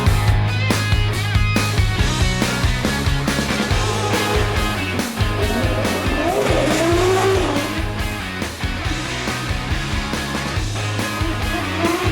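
A drift car heads out for its first practice session at a Drift Masters Germany event, its engine roaring loud and continuous with repeated revving and tire squeal throughout, no talk.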